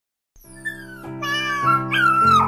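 A cartoon cat in an animated fairy tale meows in a drawn-out, wavering cry of several rising and falling notes, close and fairly loud, with no other sounds around it.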